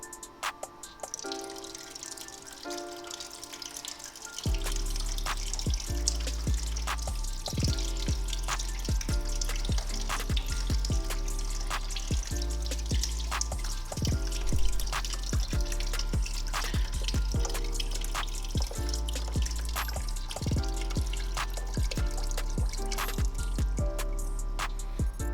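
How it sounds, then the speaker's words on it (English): Water flushes through the cooling system of a Honda Rebel CMX500 motorcycle after the coolant has been drained, a steady splashing, gurgling rush with dripping that starts after a few quiet seconds and continues loud and unbroken. "you can run it with water just to flush everything out"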